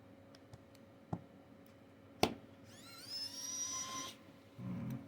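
An electric screwdriver with a low charge used on a MacBook Air screen repair: sparse clicks and a sharp tap, then a faint motor whine rising in pitch for about a second before cutting out, followed by low rumbling.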